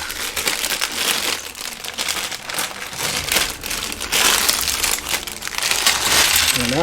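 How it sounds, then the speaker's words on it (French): Crinkly plastic bag of LEGO pieces for a Star Wars X-Wing set torn open and handled, a continuous close rustle and crackle with small rattling clicks of bricks shifting inside. "on va ouvrir le sachet."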